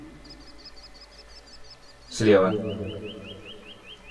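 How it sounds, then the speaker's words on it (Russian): Faint, repeated high chirps of birds in the background, with a brief spoken word and a louder burst of sound midway. "Вы слышите звуки птиц?"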